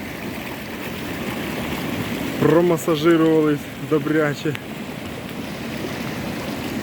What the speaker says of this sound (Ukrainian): водичка чистенька, проточна, сила потока настільки сильна